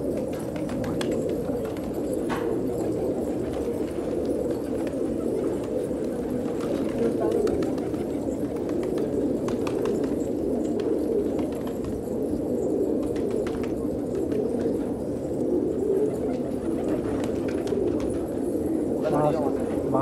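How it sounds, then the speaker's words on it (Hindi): Pigeons coo steadily in a soft, continuous murmur from a flock close by, with a person talking over it now and then. "बहुत बहुत प्यारे कबूतर हैं"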